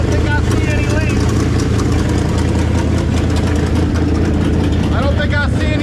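A 1968 Dodge Charger R/T engine, fitted with a new all-aluminum radiator, idles steadily and loudly up close, with a constant low rumble and people talking over it.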